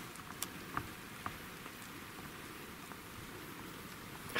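Rain falls at a medieval ruin in Norfolk, a soft continuous patter with scattered drop ticks throughout, steady and fairly faint.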